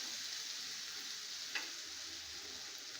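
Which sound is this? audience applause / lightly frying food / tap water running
lightly frying food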